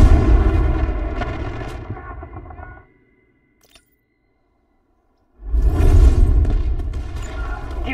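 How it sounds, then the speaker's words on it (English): Loud, heavy artillery booms and rolling gunfire come from the video game Delta Force: Hawk Ops, dense and close for about three seconds, then a sudden near-silent gap before another powerful barrage swells back in. "Artillery, destroy the enemy."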